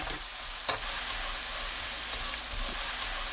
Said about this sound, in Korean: 멸치 넣고 섞어주세요.